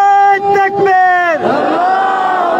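At a government employees' protest, a single amplified voice calls out a slogan, then a large crowd roars back the response in a loud, sustained shout.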